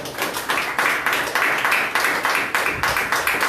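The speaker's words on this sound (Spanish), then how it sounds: "Denle un aplauso al Señor" A church congregation claps together in a steady rhythmic beat, roughly three claps a second, loud and close, sustained throughout with no talking over it.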